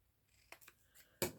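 Scissors snip through paper while cutting a tag shape: a few faint, soft snips, then one sharp, louder close-up cut near the end, with no talking.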